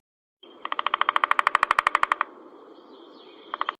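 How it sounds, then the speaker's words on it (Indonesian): Rapid woodpecker drumming on wood, a fast burst of about twenty evenly spaced sharp knocks, followed by a brief second burst after a pause, loud and close with a faint background hiss. "burung pelatuk,"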